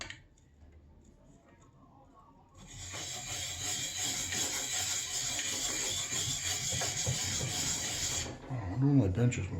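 A plane iron's micro bevel is rubbed on a coarse DMT DuoSharp diamond plate, giving a steady, loud, gritty scraping that runs for several seconds close by before stopping, followed by a short murmur of speech.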